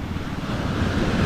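Ocean waves surge and rush at sea beside a small capsized fishing boat, a dense, continuous roar mixed with wind buffeting the microphone, loud and steady throughout.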